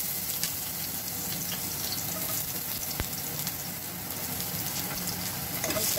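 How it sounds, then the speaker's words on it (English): Garlic and onions sautéing in a pan for arroz caldo, a steady close sizzle of frying with occasional light scrapes and stirring, no talking. "now we'll start to saute the garlic, onions, and the ginger later on"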